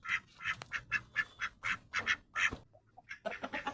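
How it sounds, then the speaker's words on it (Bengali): A farmyard duck at a rural village home quacks in a quick string of loud, close, nasal calls, about a dozen in under four seconds, with no talking. "তারপর এই যে দেখুন, এই হাঁসটাকে আজকে ধরবো।"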